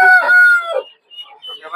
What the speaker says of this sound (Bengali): ফাইটার মুরগি